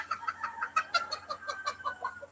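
A chicken clucks in a rapid, agitated series of close, loud calls at a backyard coop, with no talking over it.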